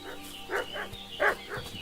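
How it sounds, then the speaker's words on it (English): Dog in Kingdom Come Deliverance 2 barking with a repeated bow-wow, four or five woofs in quick succession, at moderate distance over a quiet game backdrop. "What's that dog making such a fuss about?"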